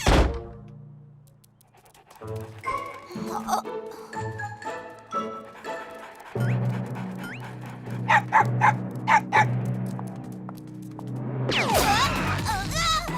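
Cartoon dogs bark and yip in repeated bursts, close and lively, mixed with thumps and panting amid busy animated sound effects.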